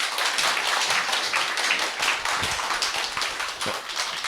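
Applause and clapping from an audience at a Hu&Company lecture event, steady and dense throughout as the next speaker is welcomed, with no talking over it.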